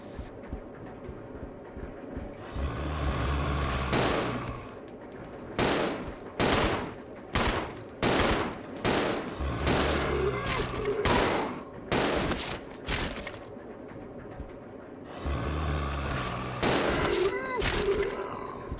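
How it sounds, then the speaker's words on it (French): Rapid bursts of gunfire from an ally shooting in the video game Resident Evil 0, loud repeated volleys separated by short pauses, with a voice talking over part of it. "Le fait que ton allié tire en même temps, très très appréciable."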